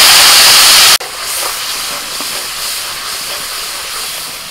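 Tomato paste hits hot mustard oil with bay leaf, cardamom, cinnamon, cloves, ginger and green chilli paste. It gives a loud, sharp hiss for about a second, then settles into a steady, softer sizzle nearby.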